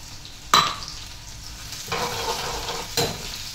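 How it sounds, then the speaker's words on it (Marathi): Green chillies and crushed garlic fry in hot oil with a steady close sizzle, broken by a few sharp scrapes of a stirring spoon. "मिरच्या चांगल्या कधी तेलामध्ये अशा तळू द्यायच्या, म्हणजे मिरचीचा जो तिखटपणा आहे की तो भाजीत उतरायचा."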